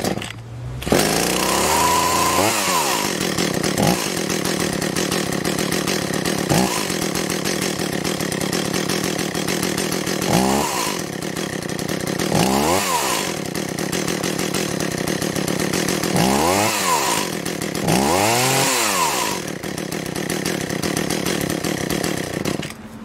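An Echo CS-400 chainsaw engine runs steadily for the whole stretch while its idle is adjusted, with several short revving swells rising and falling over the constant loud drone.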